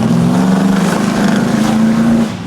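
A supercharged childhood truck running a conservative base tune revs loudly up close. The engine gives a steady, strong roar with a tonal whine and fades slightly at the end.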